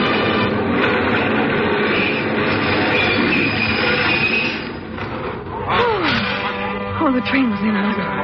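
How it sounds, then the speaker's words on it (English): Subway train pulling into a station as a radio drama sound effect, a loud sustained rumble that eases, then rises again with squealing brakes and wheels near the end. "Oh, the train was in."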